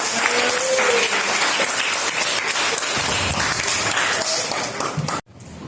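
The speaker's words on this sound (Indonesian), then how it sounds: "tepuk tangan dulu buat kita semua." Loud, dense applause from a classroom of students, steady clapping throughout that cuts off abruptly near the end.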